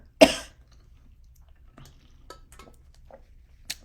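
A single sharp cough comes close and loud, followed by faint throat sounds and small clicks in an otherwise quiet room during a live card-reading broadcast.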